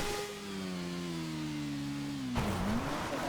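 Motorbike engine in a fake Grand Theft Auto VI game, a steady droning tone that slowly sinks in pitch, then shifts sharply into a rougher, louder rev near the end, with no talk.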